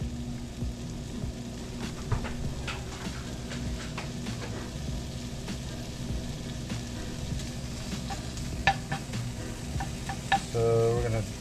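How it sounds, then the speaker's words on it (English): Bacon sizzles and crackles steadily in a warming frying pan, with a continuous hiss and scattered pops, occasional stirring or scraping noises, and close background clatter throughout. "So we're gonna render this bacon and put it in the rice."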